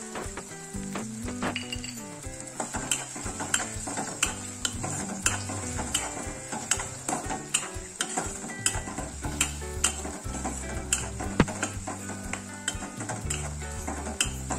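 Turmeric and spices sautéed in a pan for poha: a continuous soft sizzle with frequent clinks and scrapes of a spoon stirring against the pan, close up, with no talk.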